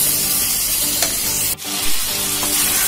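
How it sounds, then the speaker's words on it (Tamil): Sliced tomato and onion masala sizzles and fries in oil in a pan while being stirred, giving a steady crackling hiss with a short scrape and dip partway through. "இதை நல்லா மிக்ஸ் பண்ணி விட்டுக்கோங்க நம்ம கலவையோட."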